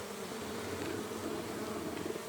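Honeybees at an open hive during spring colony inspection, a steady dense buzzing hum that fills the whole clip, close and even with no talk.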